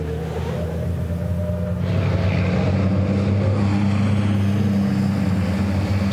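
Heavy racing truck engines at the Misano circuit, a loud sustained roar that builds as the trucks accelerate through the first sector, with no other sounds standing out.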